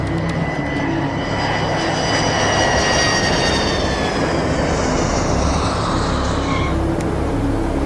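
A JPATS prison transport jet comes in to land, its engine roar loud and steady throughout with a whining high tone, swelling slightly and then easing near the end.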